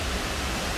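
Misol-Ha waterfall in Chiapas, Mexico, during the dry season: a steady, dense roar of falling water, broadband and unbroken, heard alone with no voices.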